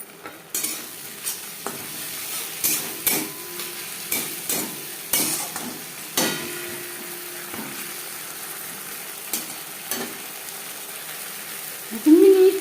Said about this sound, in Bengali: পেঁয়াজ ভেজে নেওয়ার পর দিয়ে দেবো আদা ও কাঁচা পাকা লঙ্কার পেস্ট।